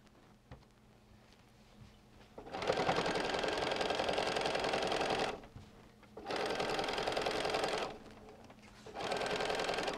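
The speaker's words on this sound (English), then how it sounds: "we're coming up to that seam. And it's a little bulky, so I'm going to raise my foot just to make sure I'm not pushing." A sewing machine runs in three loud, steady bursts, stitching over a bulky seam on a lined Christmas stocking, with short quiet pauses between runs.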